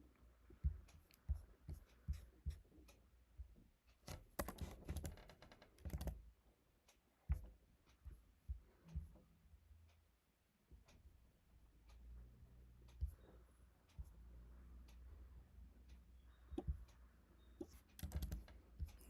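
Someone types code for a Django REST API project on a computer keyboard, producing a close, fairly quiet run of rapid key clicks with short pauses and a few louder bursts, and no voices.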